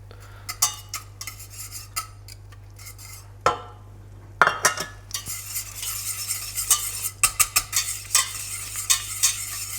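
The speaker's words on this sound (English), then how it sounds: "I'm just going to get the pan and we just want to melt that" Butter melting in a pan for a roux, stirred with a utensil that scrapes and taps against the metal in quick irregular strokes over a soft steady sizzle, close by with no talking.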